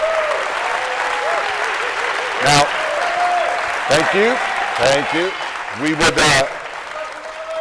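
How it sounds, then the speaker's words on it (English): Audience applause at a mayoral debate rises into steady clapping, broken by short bursts of speech from people talking over it. "You may applaud if you'd like."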